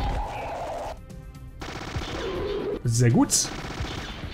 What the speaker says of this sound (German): Dann schießt er einmal und kriegt gleich mal 3 Schüsse ab